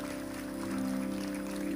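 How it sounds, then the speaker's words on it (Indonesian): Congregation applauding during a Sunday church service, brief clapping over a sustained organ-like musical drone, fairly quiet and even throughout. "Bangkit berdiri, tepuk tangan yang keras."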